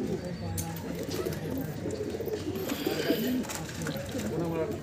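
Soft cooing of Kolkata eye pigeons mixed with the low burble of several birds in a loft, with some chatter and movement noises around them.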